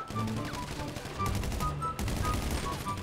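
Rapid bursts of gunfire in the video game GTA V, loud and continuous with repeated shots over a few seconds and no talk.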